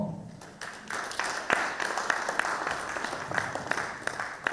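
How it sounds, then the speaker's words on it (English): Audience applause breaks out at an International Human Rights Day celebration, a dense crowd clapping that swells after a soft start and holds steady, with sharp individual claps popping through the wash. "Another round of applause for Father."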